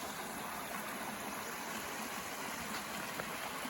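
Stream water flowing downhill near a forest temple at Palakonda, a steady, even broadband rush that stays constant throughout, with no voices.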